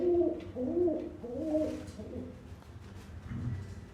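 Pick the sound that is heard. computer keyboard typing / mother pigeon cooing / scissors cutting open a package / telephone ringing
mother pigeon cooing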